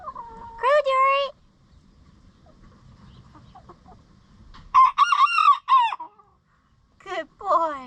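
A rooster on a farmstead crows several times, loud and close, the long raspy calls coming in separate bouts with quiet gaps between them and faint background noise.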